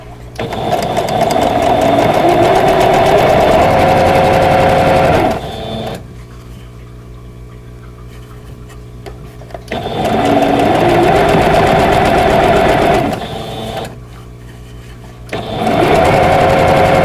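Sewing machine stitching a seam on a vintage Baby Bunting quilt block, a loud, steady mechanical whir in two long runs, each stopping abruptly, with brief quiet pauses between.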